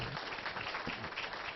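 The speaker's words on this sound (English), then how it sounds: "I'd like to have everybody give them a nice round of applause." A meeting audience applauds with steady, faint clapping that fills the short stretch without a break.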